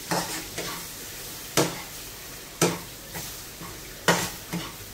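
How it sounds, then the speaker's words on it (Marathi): Green peas are sautéed in a pan while a spatula scrapes and knocks against the metal in regular strokes over a gentle, steady sizzle, close and clear, with no voices. "थोडासा परतून घ्यायचं आपण."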